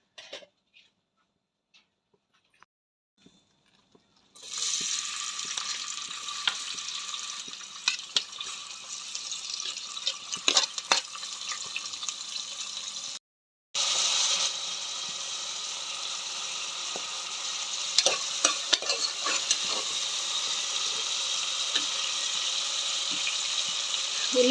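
Onions frying in a generous amount of oil in a pan for mutton curry: after a quiet start a steady hiss begins, briefly stops, then resumes as a continuous close sizzle with crackles.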